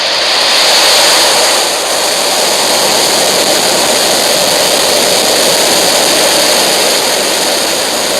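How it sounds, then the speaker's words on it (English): Falcon 9 rocket engines roar at liftoff on a SpaceX Starlink mission, a loud, continuous, broadband thunder with crackling texture that holds steady for the whole stretch, with no voices. "Falcon 9 pushing down range."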